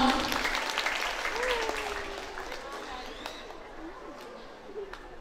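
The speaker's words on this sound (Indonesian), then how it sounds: "Boleh tepuk tangan dulu dong." Clapping from the audience at a school dance and karawitan performance at SMK Negeri 7 Padang, loudest at the start and then fading to scattered claps, with voices and some calls audible over it.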